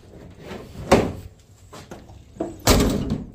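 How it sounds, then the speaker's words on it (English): Door on a 1982 Chevrolet Monte Carlo project car being closed, a few solid thunks with rattling between them and one final louder slam, close by with no talk. "See, door shut, flush"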